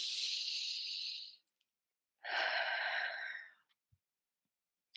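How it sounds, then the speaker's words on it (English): A slow, deep breath taken close to the mic, a long airy inhale followed by a pause and an audible exhale, with no talk around it. "take a deep breath."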